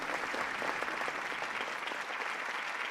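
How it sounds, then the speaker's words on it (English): A theatre crowd applauding the president, a dense, steady wash of clapping from many hands heard at a moderate distance. "The crowd applauds the president."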